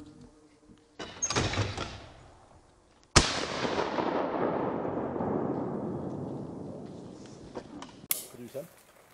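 Shotguns fire at a clay pigeon shooting event in Berg, with three sharp blasts spaced apart. The loudest blast rolls into a long, fading echo, and people talk nearby.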